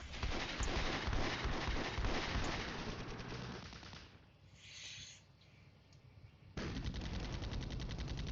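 Sustained bursts of automatic gunfire and shooting fill a video game battle, dense and continuous, with a brief quieter lull before the firing resumes at full intensity.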